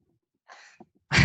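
A single sharp sneeze bursts out loudly at the end, after a short intake of breath and a faint gasp, during a sales discussion indoors.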